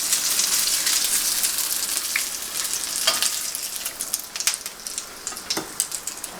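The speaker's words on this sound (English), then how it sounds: "Finish frying these." Vegetarian sandwich filling frying and browning in a pan, a steady close crackling sizzle with occasional sharper pops and spatters, no talking.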